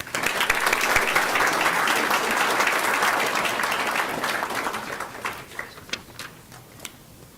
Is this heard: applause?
yes